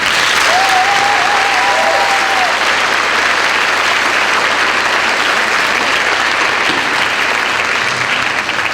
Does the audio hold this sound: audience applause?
yes